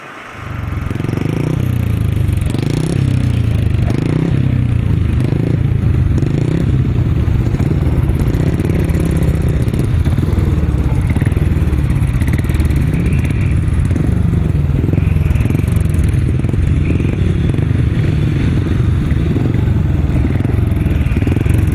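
500cc solo grasstrack motorcycles race past in a heat, their engines roaring loudly and continuously with rising and falling revs and some clatter, no talk over the noise.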